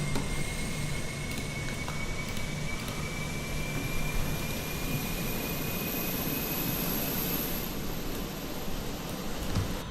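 The auxiliary power unit of an Airbus A320 in Microsoft Flight Simulator runs as a continuous, even jet-like roar with a thin steady whine on top, holding at the same level throughout.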